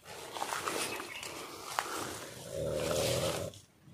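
A person snores somewhere nearby in a dark, quiet spot, with rough, breathy rasping and one longer low snore near the end, all at a moderate level and with no talking.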